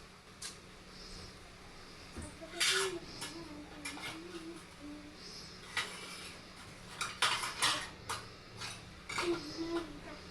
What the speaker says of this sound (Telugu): కొంచెం మూత పెట్టాలి కదా, మర్చిపోయాను.